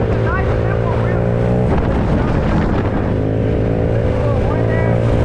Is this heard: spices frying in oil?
no